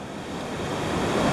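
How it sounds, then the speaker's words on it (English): Ocean waves break over a sandbar at the beach, a loud, continuous wash of surf that swells slightly, mixed with wind buffeting the microphone. "So the waves are coming up over the sandbar."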